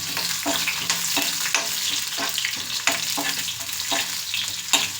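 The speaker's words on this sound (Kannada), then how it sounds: "ಈಗ ಈರುಳ್ಳಿ ಬೆಳ್ಳುಳ್ಳಿನ ಫ್ರೈ ಮಾಡ್ಕೊಳ್ಳೋಣ ಬನ್ನಿ" Onion and garlic frying in hot oil, an even, close sizzle broken by regular scraping strokes of a spoon being stirred through the pan.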